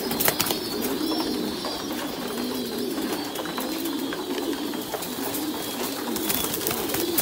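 Thai Titan breeding pigeons fill a loft with continuous overlapping cooing, a steady, dense murmur of many birds close by, with faint scattered clicks and rustles and no talk.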